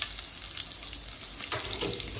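Chopped garlic and cumin sizzle in hot yellow mustard oil in a pan, a steady close crackling hiss with small spits and pops, alone without talk.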